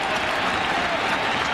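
A baseball stadium crowd at a 2000 playoff game between the San Francisco Giants and New York Mets swells in a broad, steady roar of cheering and clapping, with an announcer talking faintly beneath it.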